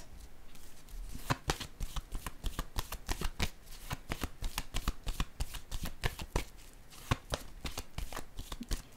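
A tarot deck shuffled continuously in a fast, even rhythm of close, crisp card slaps that run the whole length without any talking.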